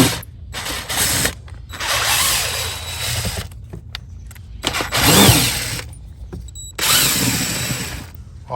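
Screws on a Range Rover Sport engine air filter box being undone, with repeated bursts of ratcheting, whirring tool noise separated by short pauses, loud and close.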